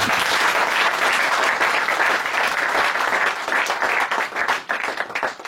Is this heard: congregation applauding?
yes